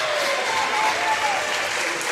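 Crowd at a men's college basketball game applauding steadily as players check out, a dense, even wash of clapping and cheering throughout.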